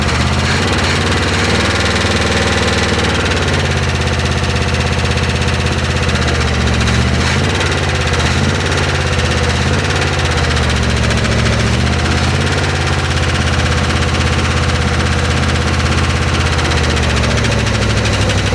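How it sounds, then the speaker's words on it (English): A 1968 Oldsmobile 442 V8 engine idles loudly and continuously, a rough, steady rumble with slight lope and knocking vibration, close up and alone without talk. "I assume that's the first time you've ever heard your car run."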